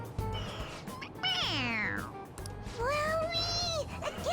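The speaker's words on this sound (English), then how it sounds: "It meows when you press on its head." A toy cat in the video game Persona 5 lets out two clear, drawn-out electronic meows when its head is pressed, close and loud over a low background hum.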